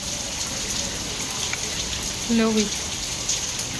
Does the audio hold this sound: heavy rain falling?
yes